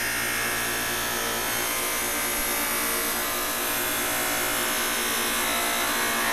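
A polishing wheel buffs stainless steel automotive trim, giving a steady high whirring hiss with a constant motor hum underneath, close and continuous with no talking.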